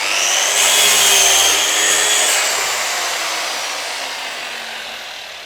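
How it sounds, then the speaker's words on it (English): A table saw runs steadily through a wooden workpiece held against the fence, producing a loud, continuous whine that stays constant for several seconds before easing slightly toward the end. "when I run my saw"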